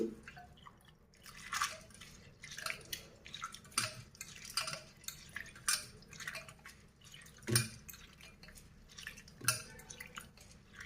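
Urad dal being rinsed in water in a kitchen vessel: close, intermittent splashing, dripping and light clinks of a pot and utensil, with no speech.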